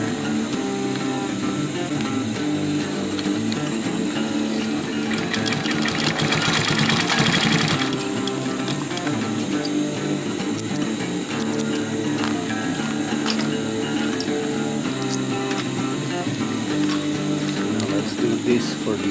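A sewing machine stitching webbing onto a rollup pouch runs in a steady mechanical chatter of rapid repeated needle strokes, with a louder denser burst early on, under a constant room hum.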